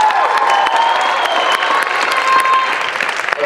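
An audience at a spoken word showcase applauds a poet, a steady, full wash of clapping that holds evenly throughout with a faint tone running underneath.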